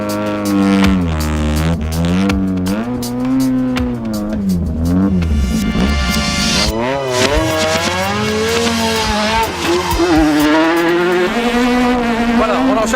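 Renault Clio Maxi rally car from 1995 racing downhill through forest corners, its engine loud and constantly revving up and down with gear changes and braking, close up, under a voice talking over it.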